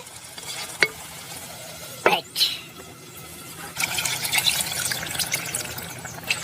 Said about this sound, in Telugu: ఒక చెంచా ఉప్పు వేసుకుందాం అండి బాగా కలుపుకొని